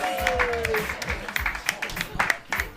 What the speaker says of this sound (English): Let's get the round going again